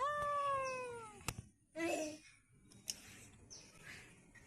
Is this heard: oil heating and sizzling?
no